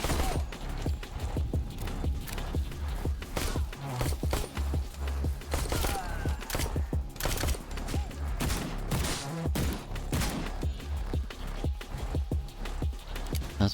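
Rapid bursts of gunfire crackle in a Skyrim parody video game, volleys of shots mixed with footsteps and clattering mechanisms at a steady, busy level.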